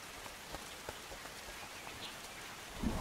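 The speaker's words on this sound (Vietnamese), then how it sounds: "Mưa lớn là gì bay?" Heavy rain falls in the medieval kingdom-building video game Norland, a steady dense hiss of downpour and scattered drops that runs evenly throughout, with no talking.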